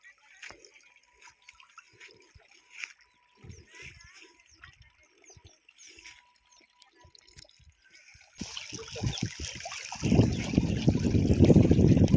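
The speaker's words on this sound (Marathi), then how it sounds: "ते पाणी बघा हे फाट्याचं पाणी इकडं निघलेलं आहे" Water from a canal branch outlet flows and splashes, faint trickles at first, then a loud, steady rush in the closing seconds, with someone talking over the quieter stretch.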